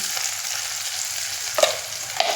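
Cumin seeds and curry leaves fry in hot oil in a pan for kanda poha, giving a steady, close sizzle with two brief louder crackles near the end, and no talking.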